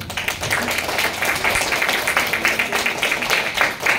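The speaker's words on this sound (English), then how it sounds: "can all the audience give all the speakers a big applause?" A forum audience clapping continuously for the speakers, a dense patter of applause sustained for a few seconds.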